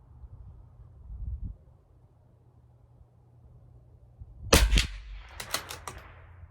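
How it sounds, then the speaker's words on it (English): A CZ457 rimfire rifle firing SK High Velocity Match ammunition at a 50-yard range: a quiet outdoor stretch, then one sharp, close shot followed by a quick cluster of crisp clicks. "I'm going to shoot 5 shots and then I'll dial down."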